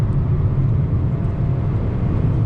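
A 2019 Honda Civic Si in Tonic Yellow driving a twisty road, its engine and road noise a steady, loud low drone heard from inside the cabin.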